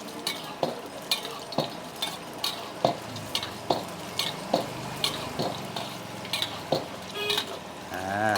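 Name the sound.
chicken fu yung hai frying, basted with hot oil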